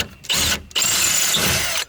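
A power drill bores out rivets on the door of a 1999 Ford F150, two close, loud bursts of high whining drilling separated by a brief pause.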